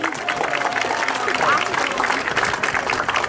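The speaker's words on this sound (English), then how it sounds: "one more big round of applause for our seniors" Crowd applause for senior football players at a varsity high school senior night, a steady wash of clapping that carries the whole stretch, with a voice speaking over it.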